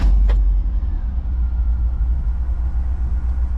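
A Volkswagen Vanagon engine idles with the clutch pressed in, a steady low rumble close by after a short initial burst, continuous and even with no talk.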